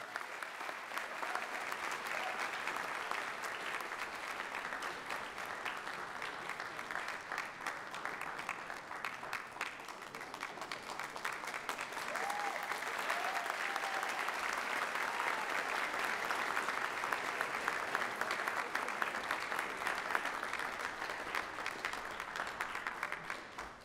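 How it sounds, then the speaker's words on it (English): Sustained audience applause at a university honors convocation, a broad, even wash of clapping from a large hall that holds steady and swells slightly toward the middle before easing off. "A round of applause, please."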